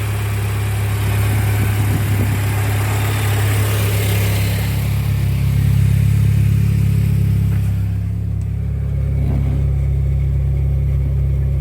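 A Mini Cooper that had sat unused for 12 months runs close by with a loud, steady engine hum, swelling slightly as it revs before settling to an idle.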